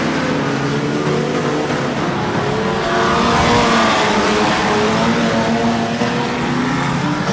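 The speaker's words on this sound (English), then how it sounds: "And they still race on down the back straight with the lead." Pre-1990 unlimited banger racing cars at Mildenhall roar round the oval track in a dense, continuous drone of engines, loud and sustained, with no break in the noise.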